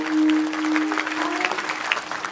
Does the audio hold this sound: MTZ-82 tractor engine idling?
no